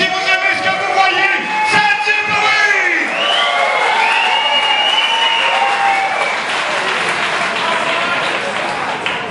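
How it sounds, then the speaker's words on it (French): A crowd at an amateur combat sports fight night applauds loudly with sustained clapping, mixed with cheers and whoops from many people. "Mesdames, messieurs, une bonne main d'applaudissement à notre ring girl."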